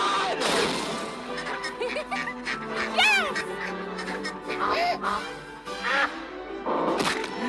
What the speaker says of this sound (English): Ducks! Nothing but ducks!